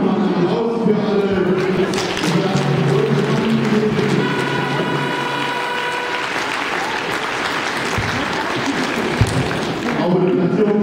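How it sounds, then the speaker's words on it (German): Applause at the award ceremony of a youth under-13 football tournament, a sustained, steady roar of many hands clapping outdoors for about ten seconds, with voices heard faintly beneath. "Danke nochmal einen Applaus für alle."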